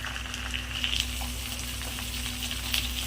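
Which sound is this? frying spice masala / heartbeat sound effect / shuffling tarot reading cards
frying spice masala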